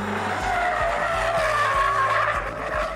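Performance car tyres squeal hard against the road in a lateral grip test through a double right-hander, a sustained wavering screech over a low engine drone, loud and close, with no talking.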